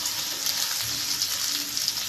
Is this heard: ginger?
yes